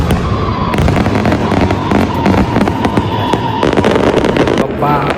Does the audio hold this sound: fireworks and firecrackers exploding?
yes